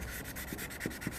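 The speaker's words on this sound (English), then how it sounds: "I'm sanding the inside of it a little bit" Abrasive sanding on the inside of a small plastic lever cap from a Ford Fiesta automatic gear shifter: quiet, close rasping strokes with a few soft rhythmic scrapes in a brief burst, no talking.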